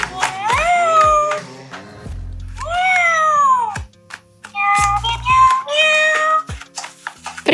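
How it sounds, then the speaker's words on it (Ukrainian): An interactive Pets Alive Smitten Kittens toy cat meows repeatedly in varied, drawn-out electronic tones, close and loud, with soft thumps between the calls. "Мяу, по різному мявкає."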